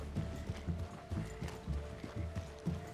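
Horse hooves clip-clop at a steady walking rhythm in a Red Dead Western roleplay game. The footfalls are fairly quiet and evenly spaced, with no talk over them.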